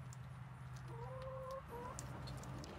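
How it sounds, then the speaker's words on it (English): Chickens feeding on leftover pumpkin give a few short clucks near the middle, over a steady low background hum, with no talking. "the chickens are happy with what's left over of the pumpkins"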